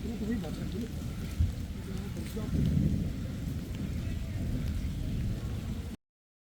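Rain falling at Edakkal Caves in Wayanad, a dense steady patter and rumble with a gusty swell midway, while people talk nearby under the downpour.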